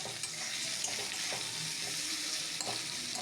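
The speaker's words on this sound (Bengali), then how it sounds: "এরপর এটাকে পেঁয়াজ, টমেটো, কাঁচা লঙ্কাটাকে এভাবেই নাড়তে থাকবো কিছুক্ষণ" Onion, tomato and green chili cooking in a pan with a steady, dense sizzle and a few soft stirring scrapes, no voices.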